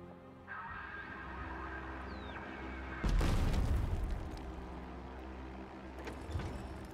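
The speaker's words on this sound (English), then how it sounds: "let's do our air attack on this enemy" A single heavy explosion from an air attack on an enemy Panzer III in the Stalingrad strategy game Total Tank Generals, bursting loudly after a quiet rumble and then trailing off into a low decay.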